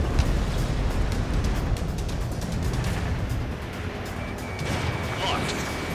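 Aircraft gunfire in Ace Combat 7, a dense continuous rattling roar with a heavy low rumble that stays loud throughout, while a voice speaks over it.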